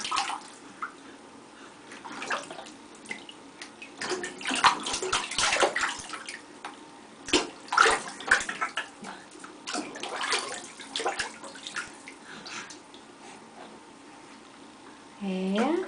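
A baby splashes and plays in bath water, making irregular slaps, sloshes and drips close by, with bursts of activity and quieter pauses, while voices are heard faintly in the background.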